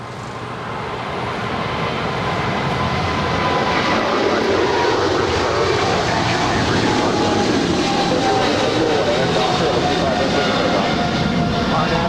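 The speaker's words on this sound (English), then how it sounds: "the 777, China Southern Cargo 777 now rolling down 25 left" A China Southern Cargo Boeing 777 jet rolls down the runway on takeoff, its engine roar swelling over the first two seconds, then holding loud and steady with a whining tone riding on top.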